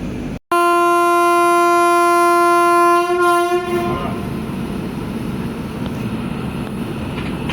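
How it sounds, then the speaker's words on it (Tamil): A Bangalore double-decker train passes close by with a long, loud two-tone horn blast, then the steady rumble and clatter of the coaches rolling past. "பெங்களூர் டபுள் டெக்கருங்க"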